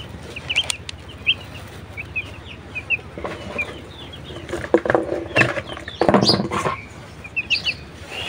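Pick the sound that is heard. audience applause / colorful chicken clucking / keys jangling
colorful chicken clucking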